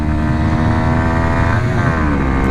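A 2019 Kawasaki Z125 with an aftermarket exhaust roars steadily at close range on a test ride, its rich harmonic engine note rising and shifting slightly as it pulls along without any voices.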